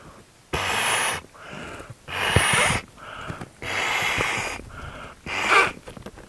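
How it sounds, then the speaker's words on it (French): Breath blown in several long bursts through the valve to inflate an HPA Infladry 25 waterproof camera bag, each loud, airy puff separated by short pauses, close to the microphone. "vous soufflez dedans"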